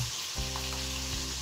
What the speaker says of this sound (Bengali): এখন এই কড়াইয়ের মধ্যে আমি তেল দিয়ে দেব